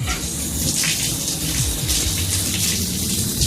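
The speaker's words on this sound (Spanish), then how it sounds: "metiendo su cabeza en un cubo de agua" A head plunged into a bucket of water as a dramatic sound effect, with steady splashing and gushing water churning loudly throughout, no voices.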